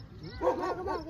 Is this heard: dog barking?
yes